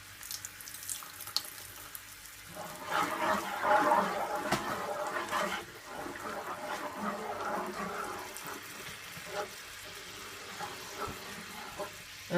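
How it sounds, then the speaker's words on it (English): Water pours from a tap into a pan of sauce with ketchup, chili flakes and pepper sauce while cooking whole fried chicken, a steady running splash lasting several seconds, with a voice talking faintly. "And I'm also gonna add some water."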